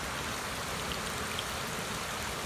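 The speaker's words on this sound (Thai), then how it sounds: "มีน้ำไหลอ๋อมันเป็นฝายเหมือนบ้านเราเลยที่กั้นน้ำ" Steady, dense rush of water flowing over a small weir in rural France, constant and unbroken throughout.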